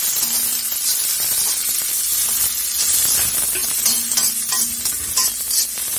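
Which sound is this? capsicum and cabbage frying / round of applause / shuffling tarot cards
capsicum and cabbage frying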